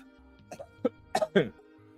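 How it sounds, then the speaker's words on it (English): A single person coughs a few times in quick succession, a short cluster of harsh bursts near the microphone after a quiet pause. "I'm about to cough."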